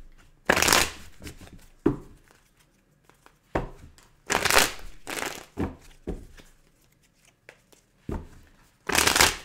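A deck of tarot cards being shuffled by hand, with repeated loud riffling bursts separated by short pauses and softer taps, close and clear with no talking.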